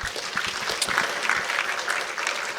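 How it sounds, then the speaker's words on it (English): Steady applause from a seated audience at the close of an inaugural university lecture, many hands clapping continuously and fairly close throughout. "Another round of applause to them."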